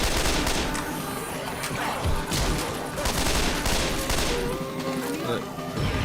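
Dense, sustained video-game gunfire with incendiary ammunition, rapid overlapping shots and bursts filling the whole stretch at close range, with a voice talking over parts of it.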